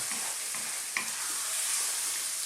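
Chicken stir fry tossed in a wok with a splash of sesame oil after the heat is switched off, giving a steady soft sizzle with one brief clatter near the start, close and alone with no talk.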